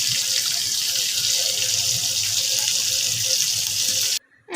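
A small amount of water pours into a pan of frying tula daati fish, giving a steady, close, rushing hiss that runs for about four seconds and then cuts off abruptly.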